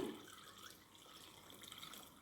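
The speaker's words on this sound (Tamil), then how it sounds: "இப்போ நாங்கள் இந்த கரைச்சி வச்ச வெள்ளத்தையும் விடுவோம் வடித்து விடுவோம்" Dissolved jaggery water being strained while cooking aadi kool pours in a faint, steady trickle and splash of liquid.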